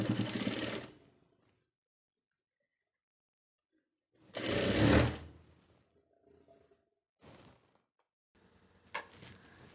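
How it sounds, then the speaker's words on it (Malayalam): A sewing machine stitches along a folded edge of a set mundu in two short bursts of close, loud whirring, with quiet handling sounds between them and no talking. "ഇതൊന്ന് ഫോൾഡ് ചെയ്ത് വെച്ചിട്ട് ഇങ്ങനെ സ്റ്റിച്ച് ചെയ്ത് കൊടുക്കാം"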